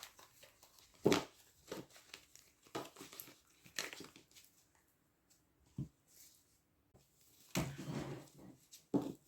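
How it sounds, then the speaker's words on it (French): Oracle cards are gathered up and put away, giving several separate bursts of crinkly papery shuffling and slapping with quiet gaps between them. "on range ces cartes"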